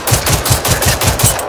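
Machine gun fire in the video game Generation Zero: a loud, close, rapid burst of about eight evenly spaced shots with no talking.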